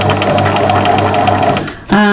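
A sewing machine runs steadily and loudly up close while stitching a tea mat near a corner, then stops, and a voice briefly starts speaking.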